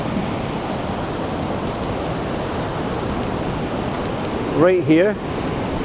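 River rapids rush in a steady, broadband roar near the water's edge, continuous and loud, with someone briefly speaking over it near the end.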